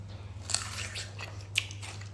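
Someone bites into a crunchy doi cherry up close, with a few sharp, crisp crunches over a few seconds above a low steady hum.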